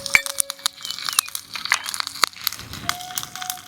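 Curry leaves drop into hot sesame oil for tempering, setting off a quick run of sharp crackles and pops, loud and close, with no talking.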